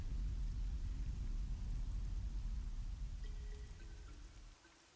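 Steady rain falling in the game Myst V: End of Ages, a dense broadband wash with low rumble that thins toward the end, with faint tonal ambience entering partway through; no talking.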